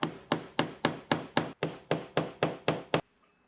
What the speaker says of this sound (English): that's why you have to tap it with the hammer